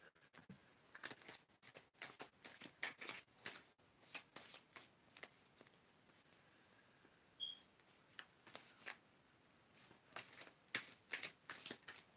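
Tarot-style cards shuffled for a psychic reading, with repeated soft riffling bursts and slides close by, quiet and without talk.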